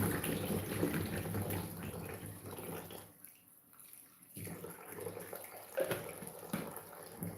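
Food is washed under a running tap before a breakfast of potato, plantain and egg. The water splashes and trickles at a low level, goes quiet briefly in the middle, and then picks up again.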